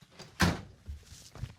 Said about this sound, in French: tu peux claquer la porte de ton véhicule